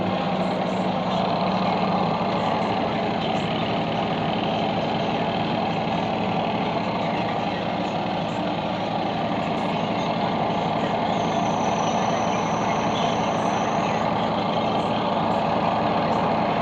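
A clothes dryer motor hums continuously, loud and unchanging, with a faint high whine appearing briefly partway through.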